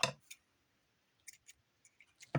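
Scissors snipping in a few short, crisp cuts spread apart by quiet gaps during a craft session, close and fairly faint, with no talking.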